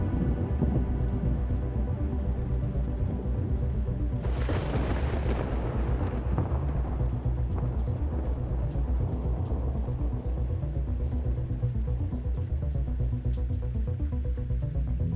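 A thunderstorm with a rolling peal of thunder that swells and fades over several seconds, set against a steady, dense wash of rain.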